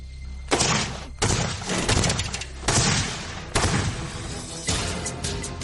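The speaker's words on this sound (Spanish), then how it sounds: "Tras varios disparos, el cañón supersónico comienza a romperse." A supersonic cannon that is starting to break apart fires a rapid series of about six heavy booming shots, each a loud blast with a rumbling tail, spaced roughly a second apart.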